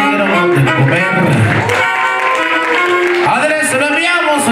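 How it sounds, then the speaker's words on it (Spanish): Wedding guests applaud steadily in a dense, close burst of clapping, with cheering and voices mixed through it. "Venga, que escuchen esas palmas, bonito, bonito."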